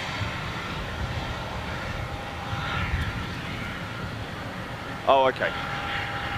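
An EasyJet Airbus A320neo engine drones steadily at London Gatwick, a faint distant roar under light background noise, with a brief voice near the end.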